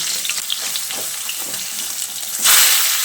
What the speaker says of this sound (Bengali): মাছের এক সাইড ভালোভাবে ভাজা হয়ে গেলে মাছগুলিকে উল্টে দিচ্ছি